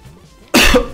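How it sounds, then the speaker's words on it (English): A single harsh cough bursts out loud and close after a near-silent moment, from someone with a bad cough during a live gaming stream. "Excuse me, sorry, I got a bad cough."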